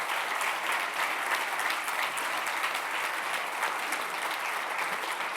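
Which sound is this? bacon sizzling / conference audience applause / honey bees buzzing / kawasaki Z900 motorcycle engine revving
conference audience applause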